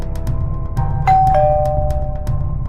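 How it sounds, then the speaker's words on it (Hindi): A house doorbell rings once with a clear two-tone chime, the second note sustaining and fading, over a steady low background hum with no talking. "उनके घर की डोरबेल बजने लगी थी।"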